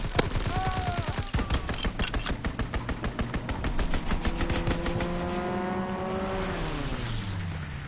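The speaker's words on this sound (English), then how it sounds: "Strafing run inbound." Strafing run in a video game: a long rapid burst of machine-gun fire rattles steadily, with aircraft or engine tones sweeping down in pitch near the end, loud and continuous.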